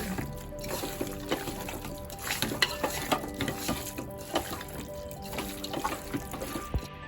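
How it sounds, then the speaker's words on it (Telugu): Chicken biryani mixture with yogurt is stirred in a pot, making wet, squelching scrapes and soft clacks of the spoon in an uneven rhythm, close and moderately quiet. "పెరుగు వేసుకొని బాగా కలుపుకోండి"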